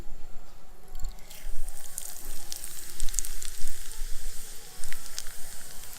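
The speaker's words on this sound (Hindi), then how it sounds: "पहले हम मेथी डालेंगे" Fenugreek seeds sizzle in lowered-heat oil while tempering a mango pickle, a steady close hiss flecked with small crackles and pops that runs throughout.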